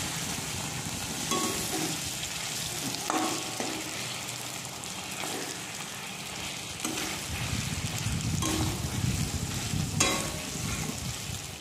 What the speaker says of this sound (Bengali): মাংস পিসগুলোকে আস্তে আস্তে নাড়তে হবে, না হলে ভেঙে যেতেই পারে